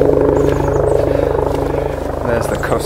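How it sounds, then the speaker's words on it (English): A Coast Guard helicopter flies overhead, its rotor giving a steady, loud rhythmic thumping throughout while someone talks. "There's the Coast Guard chopper."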